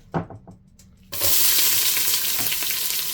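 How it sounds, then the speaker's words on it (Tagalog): Sautéing for pork caldereta: a few soft clinks and stirs, then a sudden loud burst of sizzling as ingredients hit the hot pan, continuing strong and steady to the end. "Magigisa na tayo mga lods."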